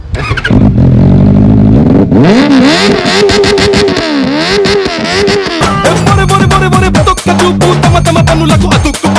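A high-revving four-cylinder superbike engine screams through repeated sharp throttle blips, rising and falling whines with crackling exhaust bursts, loud and close.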